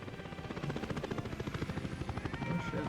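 Helicopter rotor chopping steadily in the city-building game Workers and Resources, a rapid continuous thump that builds slightly louder toward the end, with faint game ambience.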